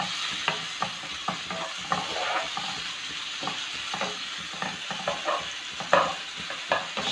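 A home taco filling sautés in a hot pan with a steady sizzle, broken by repeated scraping and clacking of a spoon stirring, close and continuous with no talking.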